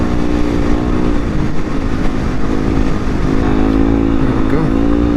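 A 2016 Yamaha WR250R motorcycle accelerates hard on a curvy road, its engine loud and close throughout with a buzzing, revving drone that rises and falls in pitch.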